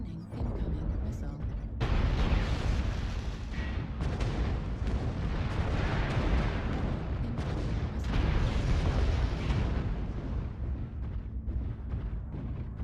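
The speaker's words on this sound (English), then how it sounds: "Warning, incoming missile." Incoming missile explosions in the mech combat game MechWarrior Online, a dense, continuous roar of heavy blasts and rumbling impacts that stays loud throughout, with brief lulls and renewed bursts.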